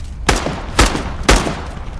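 Three sharp gunshots in Into the Radius 2, evenly spaced about half a second apart, loud and close with brief decaying tails and no talking.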